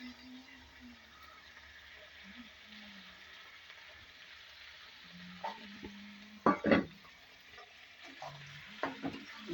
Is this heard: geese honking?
no